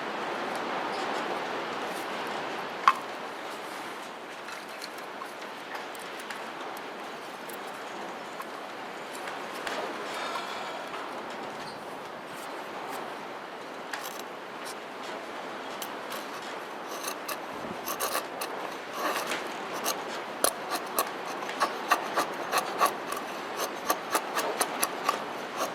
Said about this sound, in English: So now the next thing I'm going to do is I'm going to start processing down a little bit of finer shavings.